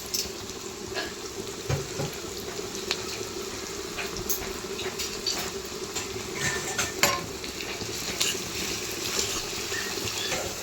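Onions stir-fry in hot oil for chicken sukka, a steady close sizzle with scattered scraping and clinking taps from the stirring spoon.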